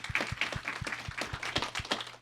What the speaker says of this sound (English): Let's give the speaker a round of applause.